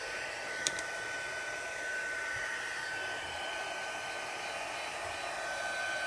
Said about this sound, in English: Apologies for a second for the heat gun. I need to heat it a little bit